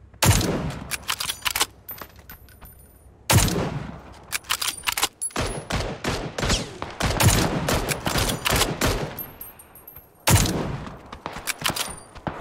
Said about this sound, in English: Shooting out tires.